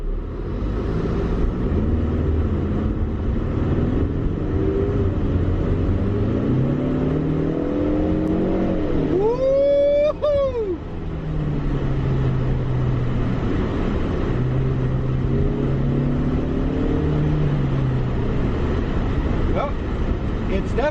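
A Ford Mustang engine rumbles steadily inside the cabin, rising in pitch as it accelerates, with a sharp revving surge midway before settling back to a low drone.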